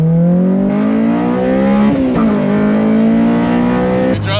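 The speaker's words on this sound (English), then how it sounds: "Okay, so let's see how VTEC hits." Honda S2000 pulling hard as VTEC engages, the engine note rising steadily in pitch with a brief dip at a shift, loud and close from inside the cabin, no talking.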